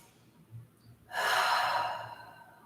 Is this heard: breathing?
yes